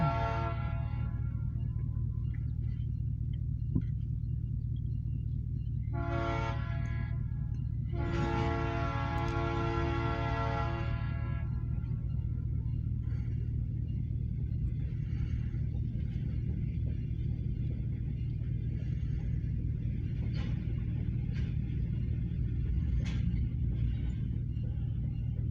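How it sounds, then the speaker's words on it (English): A short OC&T freight train near Titusville, Pennsylvania passes, with a steady low rumble throughout and two loud horn blasts early on, the second longer, followed by rolling wheel and car noise and faint clanks. "We have an OC&T's freight train coming."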